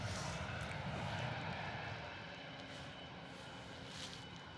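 A Bombardier Global 7500 business jet flies past at London Stansted Airport with a broad, steady engine roar that eases slightly as it goes, at moderate distance and with no talk.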